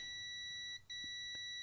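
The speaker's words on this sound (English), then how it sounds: "So we should get a beep all the way along the path here." A multimeter's continuity tester emits a steady high-pitched electronic beep close up, briefly cutting out for a moment before resuming.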